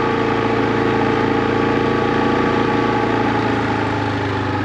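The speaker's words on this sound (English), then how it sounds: "Use a tractor." Tractor engine running on a farm while blocking a hedge gap: a loud, steady idle drone with an even rumble and humming tones that stays constant from start to finish, with no talk.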